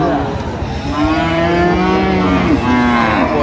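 A cow bellows a long, loud moo up close at a busy cattle market selling Friesian and crossbred bull calves, with crowd noise behind.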